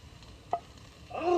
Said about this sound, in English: Hear the sizzling?